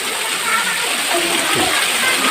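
Waterfall at a Thai temple in Ubon Ratchathani pouring steadily, a continuous broad rushing and splashing of water close by, with a faint voice underneath.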